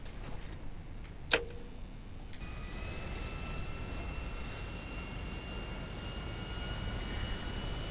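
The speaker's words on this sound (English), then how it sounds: "Oh, there's your aeroplane." A propeller aeroplane flies past in Grand Theft Auto Online, a faint steady engine drone that holds on after a brief sharp crack near the start.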